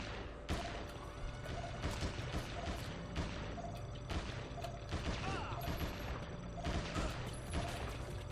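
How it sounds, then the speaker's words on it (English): Enemy gunfire in a PS2 video game: repeated sharp shots and bursts in irregular volleys, moderately loud, with clatter and thuds between them. "These must be the guys shooting at Nick."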